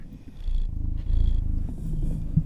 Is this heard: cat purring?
yes